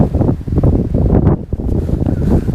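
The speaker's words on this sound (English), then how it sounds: "the wind blowing now" Wind gusts buffet an outdoor microphone on open water during a fishing outing, a loud, continuous rumbling roar with uneven surges and no voices.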